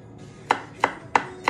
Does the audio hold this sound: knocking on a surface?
no